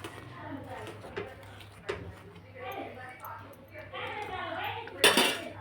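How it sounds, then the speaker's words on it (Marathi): Palak paneer is stirred in a pan, the spoon clinking and scraping against metal under a person talking, ending in a louder scrape. "पुन्हा हलून घेऊ"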